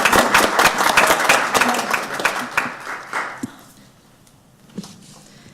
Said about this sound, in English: I'm going to give you applause for that.